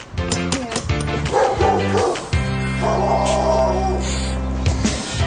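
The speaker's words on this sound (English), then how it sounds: "There's a big dog in that one." A big dog barks repeatedly behind a door, loud and fairly close, with deep rhythmic woofs and a few higher yips, and no talk over it.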